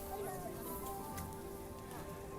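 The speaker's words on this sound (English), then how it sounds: "Probably not happening. Too rainy for that." Rain falling at Epcot in Walt Disney World, a faint steady patter on surfaces throughout, with a low background hum and light ambient noise.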